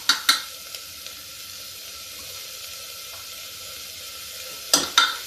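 Tomatoes for a dal curry sizzle in a pan, a soft steady fry punctuated by a few sharp clattering stirs at the start and again near the end.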